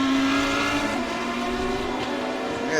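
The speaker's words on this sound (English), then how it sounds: "Hear the Lamborghini popping and banging in the background." GT3 race car engines at Road Atlanta roar and whine continuously at a distance, a Lamborghini's exhaust popping and banging, with a sharp rising pitch near the end as a car accelerates.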